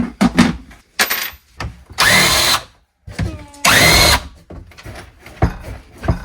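During an Airstream trailer bathroom renovation, a power drill whirs in two short bursts, each about half a second long, close by, between clunks and handling noises.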